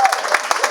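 A church audience claps and cheers in a brief, dense burst of applause, fairly close and loud.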